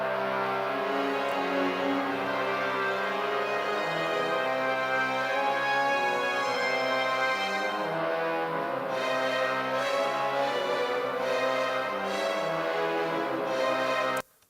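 Orchestral metal piece with full band tutti: a heavy guitar riff doubled by the orchestra, plus trumpets, violins and bass trombones carrying a melody. It plays loud and continuous throughout, with no talking, and cuts off abruptly at the end.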